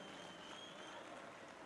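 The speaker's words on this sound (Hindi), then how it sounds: "जोरदार तालियां बजा करके साथियों स्वागत कीजिए।" Crowd clapping steadily and continuously at a Haryana government event, welcoming a state cabinet minister; a dense, even wash of applause from a seated audience at moderate distance.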